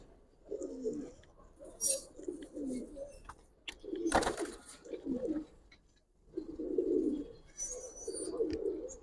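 Giribaz pigeons coo close by in bursts of low, throaty burbling, with pauses between the phrases and an occasional brief chirp or flutter.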